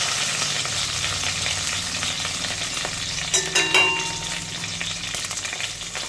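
Mustard seeds and stripped curry leaves sizzle in hot oil for a vegetable theeyal, a steady crackling hiss with a brief louder flare and stirring clinks midway.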